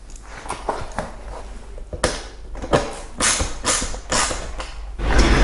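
Seat of a Jazzy Select Limited power wheelchair with reclining seat being slid up and adjusted by hand, close creaks, scrapes and metallic clunks in irregular bursts, with no talking.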